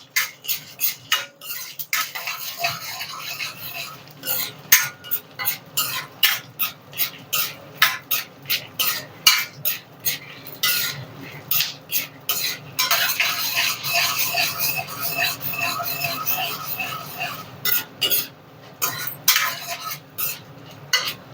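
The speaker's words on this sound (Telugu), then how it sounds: "ఎండుమిరపకాయలు ఒక్కసారి వేయించుకుందాము" A metal spoon stirs dried red chillies frying in oil in a pan, giving steady rhythmic scraping and clinking strokes over a soft sizzle, close and continuous.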